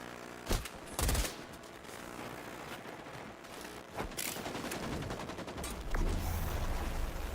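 Turret gunfire in the shooter game XDefiant: loud bursts of shots at the start, then a dense stretch of continuous rapid fire with repeated impacts running to the end.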